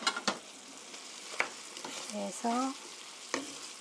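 Garlic and onion stir-frying with soy sauce in a pan for curry chicken, a loud close sizzle with sharp stirring clacks and scrapes, a short spoken word near the start.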